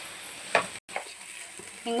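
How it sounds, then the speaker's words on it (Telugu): Bread filling with tomato ketchup lightly frying in a pan, a faint sizzle with a couple of soft stirring scrapes, ending with a brief voice. "టమాటా కచ్చప్ అవి వేసిన కదా, కొద్దిగా లైట్గా ఫ్రై చేస్తున్నా."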